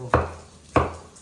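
A knife chops sweet Kumato tomatoes into chunky pieces on a board, producing two close, sharp thuds spaced about half a second apart.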